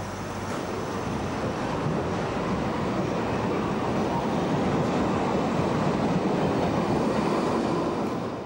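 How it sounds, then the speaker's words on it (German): U6 underground trains roll through a shallow-level station in Berlin, making a steady, loud broadband rumble and roar that continues without a break, with no talk over it. "In einfacher Tieflage rollen die Züge der U6."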